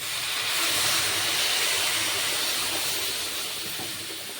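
A small amount of water poured onto semolina and Horlicks in a hot pan sets off a loud, steady, close-up steaming hiss that fades slightly toward the end.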